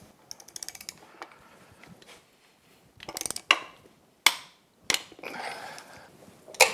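Torque wrench tightening a nut to 76 foot-pounds on a Yamaha T60 outboard during prop seal replacement: close ratcheting clicks, then several sharp, loud clicks as it reaches torque, with no talking.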